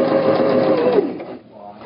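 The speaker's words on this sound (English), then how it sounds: "remember to sew all the way to the end before you start your back stitch" A sewing machine runs close and loud, stitching the pocket band of a tote bag in a steady continuous whir, then slows and quiets near the end.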